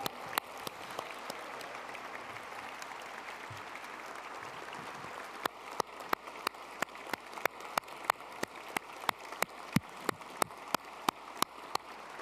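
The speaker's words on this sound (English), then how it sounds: "Another round of applause for Ed Cohen," A gala dinner crowd applauds an Athens Prize recipient at a classical studies school event, a soft, thinning patter of clapping with sharp individual claps standing out near the microphone as it winds down.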